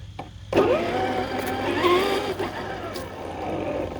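A giant CrossRC EMO XX 1/6-scale RC truck with dual brushless motors rips across grass, its electric whine rising and sweeping in pitch as it accelerates and turns, steady and fairly close throughout.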